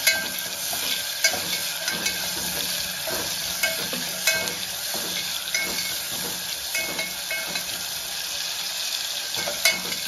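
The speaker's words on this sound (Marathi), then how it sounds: "चांगलं परतून घेऊ." Mutton masala with tomato being sautéed and stirred in a pan, a steady close sizzle and frying hiss with scattered scraping and stirring clicks throughout, no voices.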